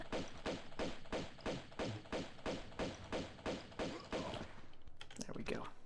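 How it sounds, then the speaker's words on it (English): Steady run of about a dozen evenly spaced pistol shots in Tomb Raider II Remastered, close rhythmic pops with a muffled thud, followed by scattered quieter game sounds. "this one we can actually just take with pistols."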